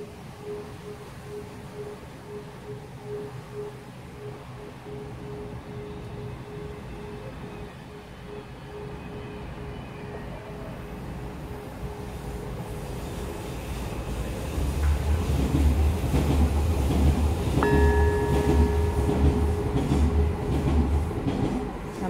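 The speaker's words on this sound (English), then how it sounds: "take the advantage of the noise of the train on the track, so the sound can go farther" A train rolls along the track near Limmo Peninsula Ecological Park in Canning Town, a steady rumbling roar that grows louder and heavier with clattering wheels and a brief squealing tone as it passes close by.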